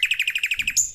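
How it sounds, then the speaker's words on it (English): A bird sings a quick run of about ten evenly spaced, clear chirping notes close by, ending in a higher whistled note, with no voices over it. "You have any idea about this bird?"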